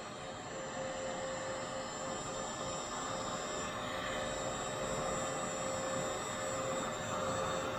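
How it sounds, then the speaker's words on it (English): A heat gun runs steadily, giving a continuous airy whoosh with a faint high whine, close and unbroken throughout with no talking. "So here's the heat gun. I'm gonna go ahead and turn it on."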